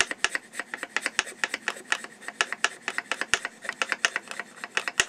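A bassoon or contrabassoon barrel profiler cutter with no safety shaves wood in quick, rhythmic rasping strokes, dozens of close, crisp scrapes repeating steadily.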